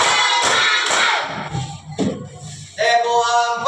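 Class of students in an Islamic religious education lesson clapping together in counted sets, sharp unison claps spaced apart, followed by a voice speaking.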